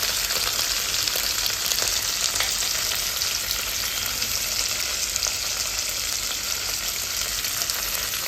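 Peanuts and cumin seeds fry in hot oil in a pan, giving a steady, dense crackling sizzle that stays close and even throughout with no voices.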